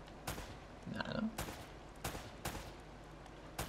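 Gunshots in the video game Uncharted: Drake's Fortune, five or six sharp separate cracks spaced irregularly over a quiet background, with a brief grunting voice near the middle.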